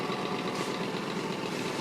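An engine runs close by, a dense, steady idle with a slight rough, rattling texture and no change in level across the short stretch, heard alone without any talk.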